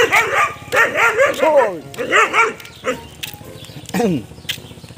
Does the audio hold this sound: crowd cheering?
no